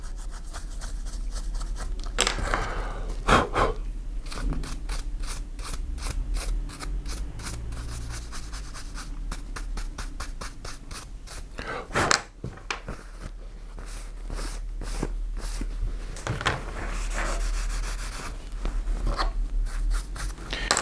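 Brush sweeping excess gold leaf off gilded leather armour, a close, dry rubbing and scratching in rapid repeated strokes that run steadily throughout, with no talking.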